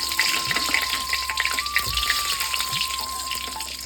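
Dry red chilli, bay leaf, cumin, cardamom and a piece of cinnamon sizzle in hot oil, a steady close crackle and spatter with no one talking.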